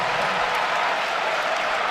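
A basketball crowd at Crisler Arena roars and cheers in a steady, dense wash of noise that holds at full volume for the whole moment.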